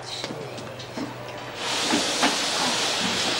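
Steam hisses in a prison laundry, a broadband rush that swells after about a second and a half and then holds loud and steady.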